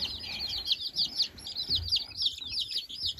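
Baby chicks in a brooder under a heat lamp peep rapidly in high, repeated chirps, several birds overlapping at moderate distance with soft rustling below.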